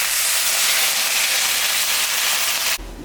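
Water poured into a sizzling fish curry in a pan sets off a loud, broad hissing burst of steam that holds steady, then drops away abruptly near the end.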